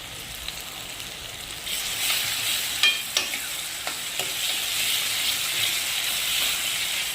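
Two or three dried red chillies dropped into hot oil for dal tadka, a steady bright hissing sizzle that swells after a moment, with a few sharp crackles and stirring clicks.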